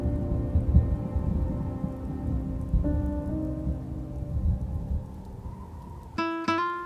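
Steady rainstorm in the survival game Rust, a dense wash of falling rain with low rumble throughout and tonal game sounds rising near the end.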